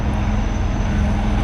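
A police rescue helicopter over riot-hit streets in Nepal gives a continuous, moderately loud droning rumble that holds steady throughout, with no voices.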